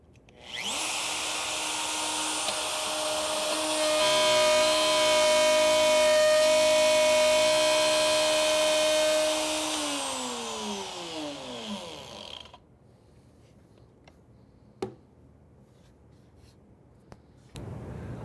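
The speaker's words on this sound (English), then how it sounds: "I can start the router with the bit above the workpiece, plunge it straight down," A plunge router spins up and cuts into a wood workpiece, a loud sustained whine with a steady pitch that winds down over several seconds, then quiet with a few faint knocks and clicks.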